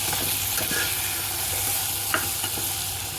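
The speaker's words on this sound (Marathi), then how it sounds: "आपण कांदा, टमॅटो ॲड केलेला आहे आणि हा पण आपण चांगला आता परतून घेणार आहोत" Onion and tomato sauté in hot oil in a pan for soda rice, a steady sizzle with occasional scraping stirs of a spoon, close and fairly loud with no voices.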